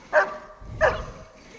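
A search and rescue dog gives two sharp, loud barks about half a second apart, close by, after locating a missing person.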